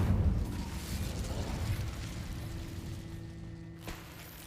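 A fiery Incendio spell blast in the Hogwarts Legacy video game erupts as a loud, rumbling burst that rolls on for several seconds, with a sharp crack near the end and no talk.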